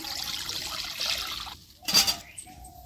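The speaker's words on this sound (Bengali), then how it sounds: "কড়াই দিব পানি পরিমাণ মতন" Water splashes into a kadhai set on a lit stove, a short close pour heard as a quick burst of trickling liquid after a moment of quiet.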